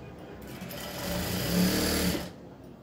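A sewing machine runs steadily while stitching a dress, its motor whirring close and continuous for a couple of seconds, growing slightly louder in the middle before stopping.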